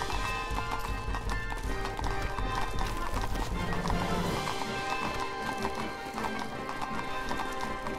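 Horse hooves gallop at a fast, steady clip-clop in the medieval video game 1428: Shadows over Silesia as the rider flees a town, loud and close, layered with game music and occasional shouting voices.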